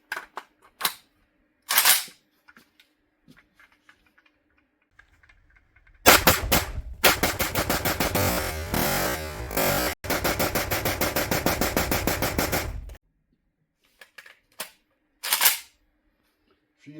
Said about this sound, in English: So next we're gonna just mag dump a bit for the fun.